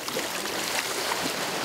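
Sea waves splash and wash steadily along a coastline used for marine therapy, a close, continuous watery rush with no voices over it.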